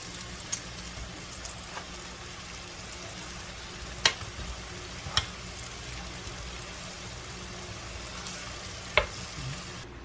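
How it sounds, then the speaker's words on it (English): Battered pork chops frying in a pan for tacos, a steady close sizzle with a few sharp pops and spatters standing out over the continuous crackle. "So now I'm just frying, basically just frying the batter."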